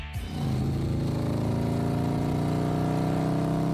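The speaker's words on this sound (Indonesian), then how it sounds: "apakah itu suara truk atau motor?" A heavy engine, either a truck or a motorcycle, idles with a steady, throbbing hum that holds loud and even after a brief start, with no voices over it.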